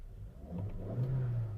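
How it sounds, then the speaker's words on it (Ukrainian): The engine of a used Volkswagen Touran with 204,000 km on it, imported from Italy, running just after starting, a low steady hum that swells slightly as it picks up revs, heard close with no voices. "Двигун запускається чудово."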